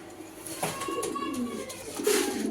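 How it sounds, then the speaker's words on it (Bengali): Belgian and Dutch bloodline racing pigeons cooing close by: a few soft, low coos rising over a hissy room background, with a louder call near the end. "নটটা তো ভাই মানে ডাকের জন্য প্রত্যেকটা কবুতর এক্সপার্ট"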